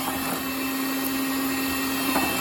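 A KitchenAid stand mixer kneads dough with a steady, close electric motor whir that holds an even hum without pause, and nobody speaks.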